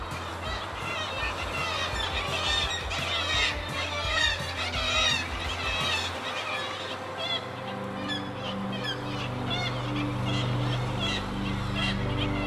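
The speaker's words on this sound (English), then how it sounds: "I stopped to film a group of black-legged kittiwake nesting under a bridge" A colony of seabirds, black-legged kittiwakes nesting under a bridge on a Norwegian island, calls over and over in a noisy, overlapping chorus, with a steady low rumble underneath.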